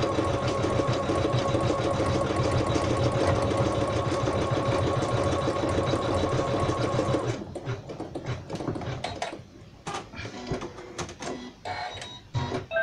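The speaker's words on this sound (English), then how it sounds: "I can press start, and it will do the blanket stitch now around the hat" An embroidery machine sews a blanket stitch around a hat appliqué on a Sue Bonnet Sue bedtime design, running in a steady dense mechanical chatter that breaks into choppy bursts with pauses near the end.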